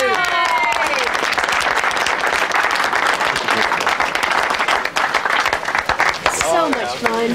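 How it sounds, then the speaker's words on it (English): A film crew applauds on set, a dense, steady round of clapping and cheering that fills the whole stretch, with excited voices and whoops rising over it near the end. "a round of applause for Jessica for being in this movie!"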